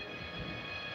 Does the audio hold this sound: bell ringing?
no